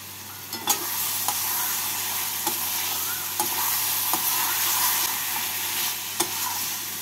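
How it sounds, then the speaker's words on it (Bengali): Fried potato and coconut are stirred into sizzling masala in a pan, the constant frying hiss broken by several sharp spoon scrapes and clacks against the metal. "আলু আর নারকেল দিয়ে মশলার সাথে নাড়াচাড়া করে নেব"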